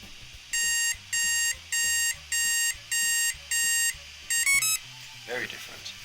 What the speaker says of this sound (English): The sequence of beeps are different.